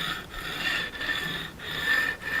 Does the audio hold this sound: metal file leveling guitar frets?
yes